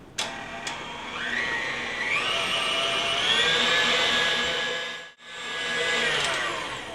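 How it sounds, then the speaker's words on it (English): Electric mixer with a whisk beating butter at higher speed, a loud, steady whirring hum that rises in pitch, briefly cuts out near the end, then resumes. "I'm using a higher speed now, and of course I'm using the whisk this time"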